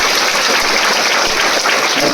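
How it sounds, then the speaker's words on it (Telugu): A large crowd at a political rally breaks into loud, sustained applause, dense continuous clapping that fills the space evenly from start to finish with no voices standing out. "గట్టిగా చప్పట్లు కొట్టండి ప్రజలు"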